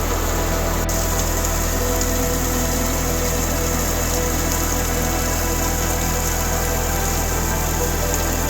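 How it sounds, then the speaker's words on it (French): A heavy rain shower during a thunderstorm pours down as a dense, steady hiss that fills the whole stretch without a break, with no voices over it. "attendre que le rideau de pluie passe"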